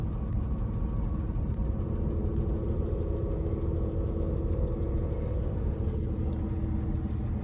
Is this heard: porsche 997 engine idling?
yes